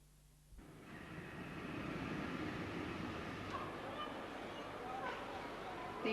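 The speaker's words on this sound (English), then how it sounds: "The Class 506 Manchester-Glossop-Hadfield 3-car set comes into platform 4." A Class 506 Manchester–Glossop–Hadfield three-car 1500-volt DC electric train running into platform 4, a steady rolling rumble that swells after a quiet start and holds, with faint squeals and clicks over it.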